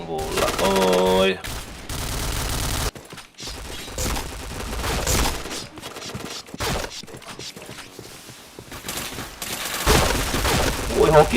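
Shooting video game gunfire in loud repeated volleys with mechanical clacks between bursts, opening over a short musical tone and broken by brief pauses.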